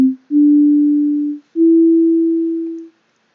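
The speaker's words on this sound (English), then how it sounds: "The attack here at the beginning has a bit of a pluck sound to it, like when you pluck a guitar string." A synthesized note with a plucky, guitar-string-like attack, heard as a sustained pure tone played twice: a short onset blip, then two long steady notes each lasting over a second, clean and loud with nothing else present.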